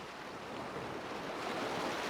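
Cold ocean surf at a beach, a soft continuous wash of breaking waves rising slowly in loudness, heard alone without voices.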